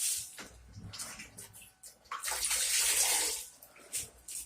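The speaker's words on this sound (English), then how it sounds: "I'm going to rinse." Water splashes and runs in a rinse over freshly grouted tile, a rushing, hissing wash with short pauses and bursts, close up.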